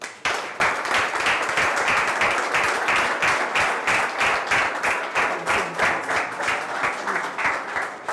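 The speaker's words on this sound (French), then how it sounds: "Faites une ovation pour Jean-Luc Conan" A live audience gives a sustained ovation, dense steady clapping from many hands that carries on loudly for the full stretch without a break.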